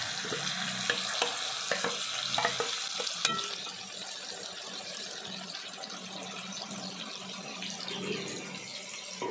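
Spices sizzle in hot oil in a pan, a steady frying hiss with occasional stirring clinks and scrapes near the start, continuing evenly throughout.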